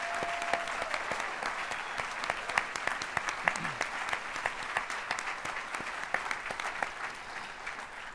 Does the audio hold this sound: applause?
yes